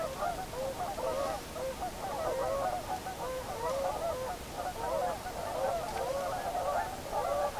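A dense flock of geese honking continuously, many overlapping calls at close to moderate distance, steady and loud throughout.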